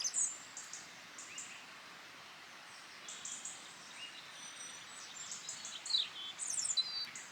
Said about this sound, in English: I love listening to all the birds singing in the trees anyway